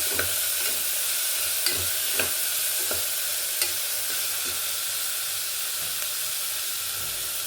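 Small chopped tomato frying in hot oil: a steady bright sizzle and hiss fills the clip, with occasional soft taps of a spoon stirring, close and continuous without speech.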